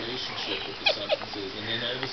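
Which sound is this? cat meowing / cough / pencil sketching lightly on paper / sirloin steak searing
cat meowing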